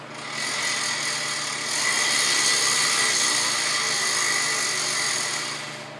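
A steady mechanical humming whine from the 4x4 hubs of a 2005 Ford F-150 pickup with a 4x4 fault, swelling a little louder midway and then fading out, with no voices.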